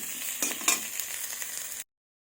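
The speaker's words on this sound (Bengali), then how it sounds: "আলু পটলগুলো আমার খুব সুন্দরভাবে ভাজা হয়ে গেছে" Potatoes and pointed gourd fry in oil in a pan with a steady, close sizzle and a few brief crackling bursts, then the sound cuts to silence.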